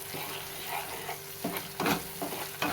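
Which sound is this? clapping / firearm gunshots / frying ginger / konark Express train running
frying ginger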